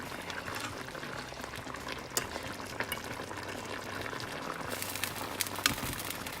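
Pork stew sauce simmering in a pot, a steady bubbling boil with a soft continuous hiss and occasional louder pops, heard close up with no talking.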